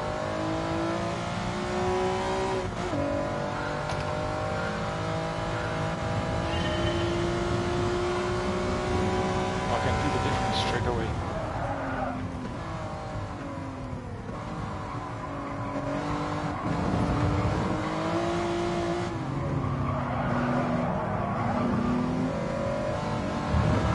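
Race cars accelerate in Gran Turismo Sport on a real circuit, their engines revving continuously and close up. Pitch climbs and drops through gear shifts and corners, with a brief tire squeal and no talking.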